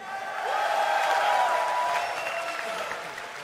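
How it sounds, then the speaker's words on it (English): A large esports arena crowd at a StarCraft II tournament claps and cheers, swelling into a broad roar of applause before easing off slightly. "You guys cheering for MVP?"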